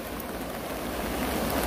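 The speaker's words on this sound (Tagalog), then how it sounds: "straight na 'yung ulan dito sa South Korea" Steady summer rain pours down in South Korea, a dense continuous hiss of drops on surfaces, loud and close throughout with no voices.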